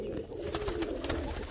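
Pigeons coo softly and close by, their low rolling coos repeating over faint background noise.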